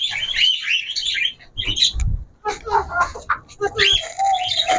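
Chicks chirping near their cage at a small home zoo, high shrill peeps in busy clusters, loud and close, with brief pauses, a low thump and a voice mixed in.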